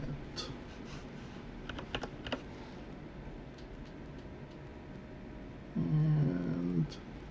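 Typing on a computer keyboard while entering text into a WordPress settings field, with soft scattered key clicks close to the microphone over a steady low background hum; a brief louder burst of noise comes near the end.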